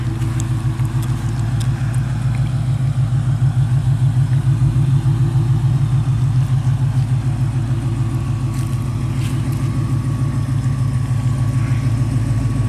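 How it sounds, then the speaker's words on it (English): A 2004 Cobra's engine and exhaust idle with a steady, loud, raspy rumble, a low pulsing throb that stays even and continuous with no talk over it. "that echo of the exhaust. It's kind of like a rasp sound"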